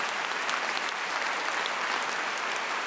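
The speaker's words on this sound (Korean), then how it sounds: "우리 한번 최경주 형제를 위해서 격려와 사랑의 박수를 한번 합시다." A church congregation claps together in warm encouragement for a member, a dense, steady wash of applause filling the room for about three seconds without speech.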